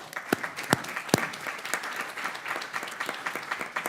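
A committee hearing room fills with steady applause welcoming a new member, many hands clapping at a moderate distance with a few sharper nearby claps standing out.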